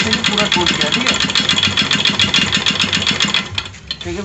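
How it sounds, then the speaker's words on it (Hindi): A TVS Scooty Pep Plus scooter with a damaged drive belt runs close up, its engine giving a loud, steady mechanical clatter with rhythmic piston knocking throughout, easing slightly near the end. "अंदर से बहुत पिस्टन का आवाज़ आ रहा है"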